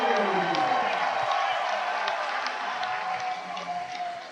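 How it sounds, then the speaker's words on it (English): A packed ballpark crowd roars and cheers after a three-run home run in an independent-league baseball finals game, a dense, sustained wall of noise with scattered whoops and clapping, staying loud throughout. "The crowd went wild."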